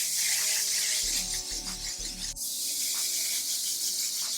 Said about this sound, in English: I'm gonna just spray this on